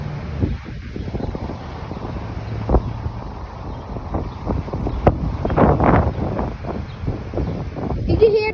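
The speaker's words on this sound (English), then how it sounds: "You can hear the trees because it's extremely windy." Strong gusty wind during a big windstorm of about 30 mph, trees bending sideways, roars steadily with microphone buffeting and louder surges throughout.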